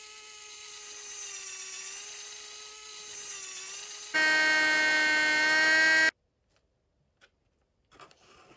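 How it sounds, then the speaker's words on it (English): A power drill boring holes for support wires whines steadily, first at a wavering pitch, then a louder, higher run for about two seconds before cutting off, followed by faint clicks. "Just going to drill a couple of holes in here"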